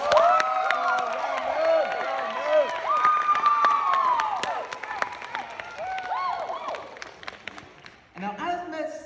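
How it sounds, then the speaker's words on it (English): A theater audience cheers and whoops with scattered clapping as a performer is called out, the crowd noise dense and lively, then thinning into a few lone shouts near the end. "Could you come out for a little round of applause?"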